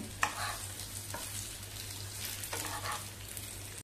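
Cucumber vadya fry quietly in a pan as the pieces are flipped over, a soft continuous sizzle with light scrapes and taps, under a low steady hum.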